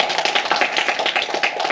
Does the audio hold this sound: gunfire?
no